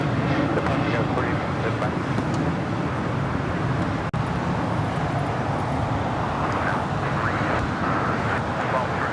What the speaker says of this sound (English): That is the Hawaiian A330 coming in from Honolulu, flight 78, making that left-hand turn onto Lima.